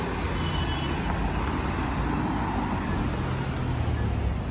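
Blue Citroën XM driving past on a busy street in Croatia, a steady, fairly loud wash of engine and tyre noise blended with surrounding traffic, no clear peak as it goes by.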